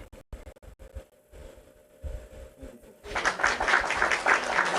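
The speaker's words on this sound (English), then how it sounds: "Let me clap for everybody." Clapping from one person gives way to a steady broadband wash of applause that lasts the final couple of seconds, following a stretch of quiet talk and low background hum.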